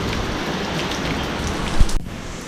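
Steady, heavy rain in southern Taiwan hissing on surfaces close by, with a brief low thump near the end.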